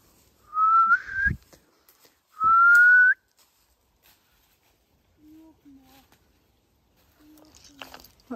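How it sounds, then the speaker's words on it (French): A person whistles outdoors to call back a dog that has run off during a geocaching outing: two rising whistles, clear and fairly close, followed by quieter sounds and brief murmured talk. "Je siffle pour rappeler le chien qui est parti je ne sais où"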